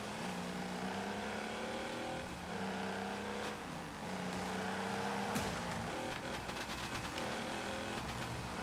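Race cars roar and jostle in the Wreckfest 2 racing game, a big red Charger among the pack, with steady loud engine drone, shifting pitch as cars accelerate and bunch together, and occasional scraping impacts.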